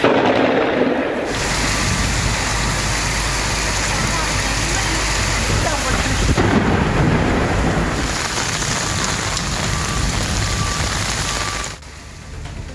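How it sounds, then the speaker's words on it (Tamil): Heavy rain with wind and thunder over the Chennai suburbs, a dense, loud, continuous roar of downpour with deep rumbling swells, the storm steady throughout and easing slightly at the end. "பகுதிகளில் காற்றுடன் மழை பெய்தது"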